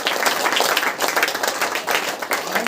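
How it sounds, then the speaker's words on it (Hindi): A church congregation at a Saturday prayer meeting claps hands in thanks, a loud, dense burst of many hands with an uneven, slightly rhythmic patter throughout, no voices standing out. "ताली बजाकर परमेश्वर को धन्यवाद करें।"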